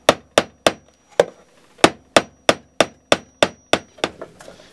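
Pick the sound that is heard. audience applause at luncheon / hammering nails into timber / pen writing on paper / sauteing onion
hammering nails into timber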